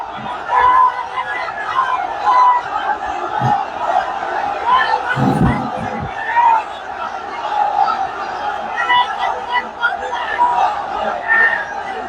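A large crowd at an outdoor Islamic tafsir mahfil gathering in Pekua chants takbir, 'Allahu Akbar', in loud, massed, rolling voices. The chant is sustained for the whole stretch and swells and falls with a few stronger bursts.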